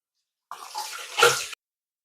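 Water splashes briefly from a tap while someone washes up during home cooking of dosa and chutney, a short burst of running and splashing lasting about a second, close and fairly loud with nothing else heard.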